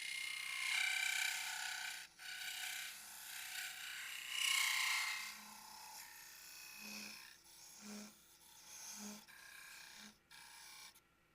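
Hand scraping of wood inside a turned Celtic wedding goblet, soft rasping strokes at first, then a few short rhythmic scrapes, faint and close with quiet pauses.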